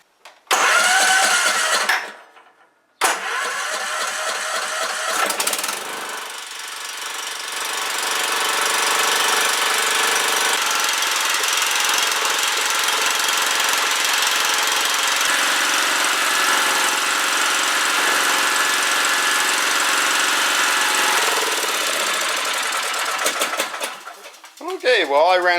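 A Tory Bilt TB30R riding mower's engine cranks briefly, cuts out, then catches and runs steadily at a loud, even drone for about twenty seconds before winding down near the end.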